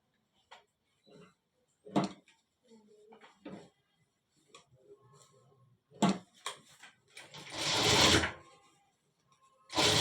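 A sewing machine stitching a full-sleeve shirt runs in short intermittent bursts between pauses, with soft clicks and fabric handling, plus one longer whirring run near the end, close and fairly quiet.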